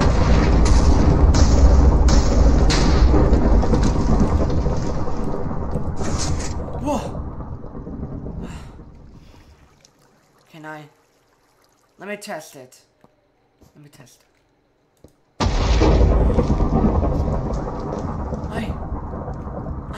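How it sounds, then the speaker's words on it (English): Broad rumbling thunder, likely with rain, swells loud for several seconds, fades into near silence with brief voices, then returns just as heavy and close. "I have thunder again."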